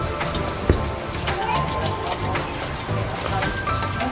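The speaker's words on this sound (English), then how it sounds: "A little stream up there flowing through the rocks." A small stream trickles and splashes over rocks near a rock-house shelter on a forest hiking loop, a steady close wash of water with scattered droplet sounds.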